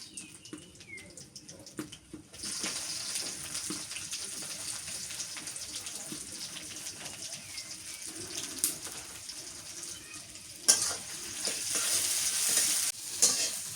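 Chopped onion and whole spices such as cardamom and cloves sizzle in a small pan for a mutton curry, with stirring scrapes and crackling that swells louder later on.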